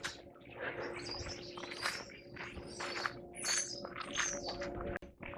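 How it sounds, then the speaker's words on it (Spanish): A large flock of birds chirps and tweets in a dense overlapping chorus, many bright calls close by, with some pigeon-like cooing and wing flutters mixed in, no talk. "Está esto full de pájaros el día de hoy."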